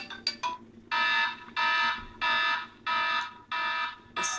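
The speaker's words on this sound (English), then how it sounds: "next is alarm." An iPhone 4 alarm ringtone repeats in steady, loud pulsing bursts, starting with a few quick stutters, with short gaps between each burst.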